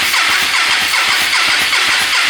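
A Hyosung 250GT R motorcycle engine running loud and steady, with a dense mechanical roar and a rapid, even firing pulse throughout.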